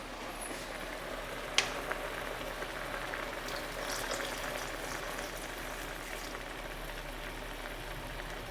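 Water poured slowly into a cooking pot, a steady low wash and trickle with a brief clink near the start, no voices.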